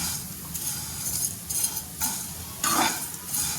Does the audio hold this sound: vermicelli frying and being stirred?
yes